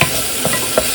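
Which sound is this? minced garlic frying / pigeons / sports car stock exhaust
minced garlic frying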